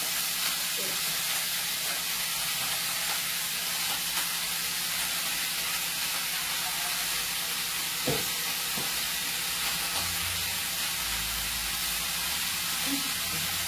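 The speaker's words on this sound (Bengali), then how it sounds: "তেলের মধ্যে দিয়ে দিলাম পেঁয়াজ কলি আলু" Spring onions and potatoes frying in hot oil make a steady, moderately loud sizzle and hiss that runs throughout, with a few soft clicks and knocks from the pan.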